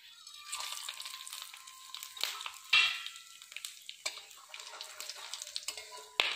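Whole spices, including bay leaf, chilli, black peppercorns, cumin and green and black cardamom, frying in hot oil for a village curry, giving a steady close sizzle broken by sharp crackles and pops.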